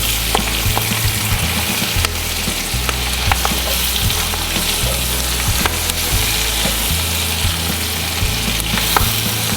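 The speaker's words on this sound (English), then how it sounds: "so it looks like I'm really getting the greens sauteed around in there" Collard-style greens sizzle and fry steadily in a hot pan with bacon, onion and garlic, a continuous close crackle broken by occasional stirring clatter and sharp pops, with no talking.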